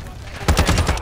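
ISO Hemlock rifle in a first-person shooter game firing a rapid automatic burst of several close, punchy shots after a short quiet lead-in.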